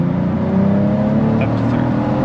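Cadillac CT4-V Blackwing's engine held at full throttle on a racetrack, a loud, steady, close-up drone with rising harmonics as it pulls hard, with a voice coaching over it.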